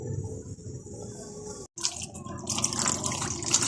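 Water runs steadily from a tap as fresh coriander leaves are washed for a pabda fish dish, a close, continuous splashing hiss with a brief break partway through.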